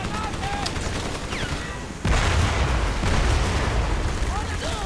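Gunfire and explosions in the first-person shooter Crysis Warhead: scattered shots, then a sudden loud blast about halfway through, followed by a sustained dense roar of battle noise. Talking runs over it.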